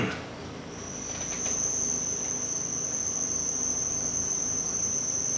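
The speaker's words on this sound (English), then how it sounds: "Can you kill the cricket? Stomp on that cricket, please." A cricket chirps steadily indoors at a brewery, a continuous high, thin trill that holds on throughout, fairly prominent against a quiet room.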